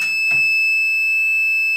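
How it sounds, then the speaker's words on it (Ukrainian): An ESC300S power inverter with built-in charger and sine-wave output beeps as it refuses to switch on from battery, giving a loud steady high-pitched tone close by, with a brief knock near the start. "Пищить і не хоче вмикатися."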